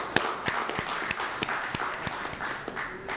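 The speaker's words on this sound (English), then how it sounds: "they deserve a well round of applause" Applause for young farmers from an audience at an agricultural event in St. Kitts and Nevis, a fairly steady wash of clapping with sharper individual claps standing out, moderately loud and with no talking.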